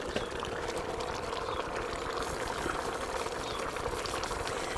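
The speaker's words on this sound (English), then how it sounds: "So in go the lentils." Lentils tumble into a cooking pot of simmering beef in a campervan kitchen, a steady, dense hiss and patter of grains and liquid that holds evenly, close and moderately loud, with no talk.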